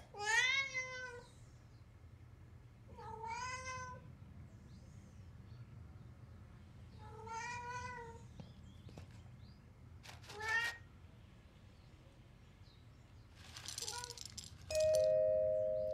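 Cat meowing in the video game Alfred Hitchcock – Vertigo, with four or five clear, fairly loud meows spaced a few seconds apart over a quiet backdrop, plus a brief rattle and a tonal chime near the end.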